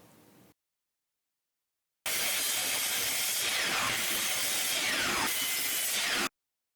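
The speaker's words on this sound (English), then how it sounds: "Use your miter saw to cut the pieces to size." A miter saw cuts wood pieces to size for cutting boards, one loud continuous cutting run of about four seconds with rising and falling whine as the blade passes through, after a brief burst and a silent gap.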